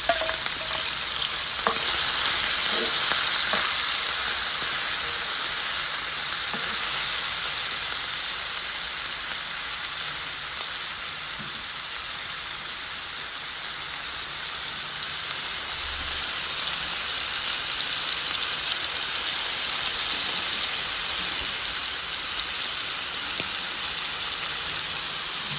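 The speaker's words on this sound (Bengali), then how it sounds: "তেল গরম হয়ে গেছে, এখন চিংড়ি দিয়ে হালকা লাল লাল করে ভেজে নেব।" Shrimp frying in hot white oil, a dense, steady crackling sizzle that fills the whole stretch without pause, close and loud with no talking.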